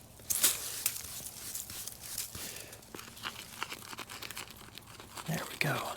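Plastic tool scraping red clay dirt off a granite headstone, giving a series of close, uneven scratchy rasps and crinkly scrapes with short pauses between strokes.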